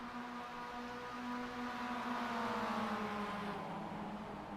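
Mazda MX-5 race cars lap Suzuka in a racing game, heard as a moderate, steady engine drone whose pitch slowly rises and falls as the cars run past Dunlop toward Degner.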